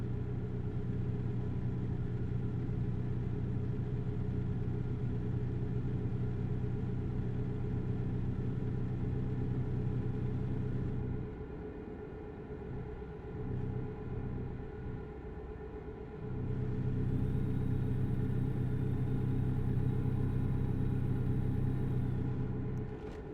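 A truck engine drones steadily while driving through Tulsa in American Truck Simulator, a continuous low rumble with tonal hum that briefly thins and dips midway before returning at full level, with no talking.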